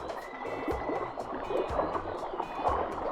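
River current rushing and gurgling past rocks on a Jamaican river, a steady broadband wash of moving water close by with small splashes and burbles throughout.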